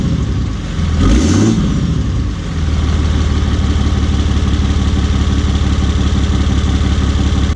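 A big Cummins diesel truck engine, tuned, idles with a deep, steady rumble, briefly revving up early on before settling back into a loud, even idle.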